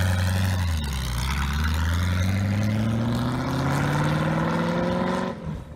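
A Ford 550-horsepower supercharged V8 revs up hard, its loud, close engine note climbing steadily in pitch for several seconds before cutting off abruptly.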